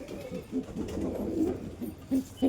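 Kept domestic pigeons give several soft, low coos in short bursts, heard fairly close against a quiet background.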